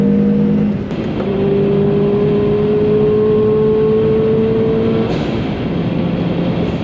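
A Subaru BRZ accelerates hard down a straight on a track, its loud engine note climbing steadily in pitch for several seconds under steady wind and road roar, close and continuous with no talk.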